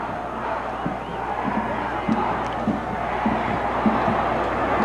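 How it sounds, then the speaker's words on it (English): Stadium crowd at a 1976 junior college football bowl game, a dense continuous roar with rhythmic chanting pulses, loud and distant-sounding and filling the whole space. "And the crowd, Paul, this is almost deafening."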